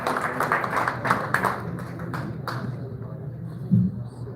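An audience at an Urdu poetry mushaira claps to welcome a speaker to the stage. Scattered, moderately loud claps come first, then thin out and fade away, with a soft thump near the end.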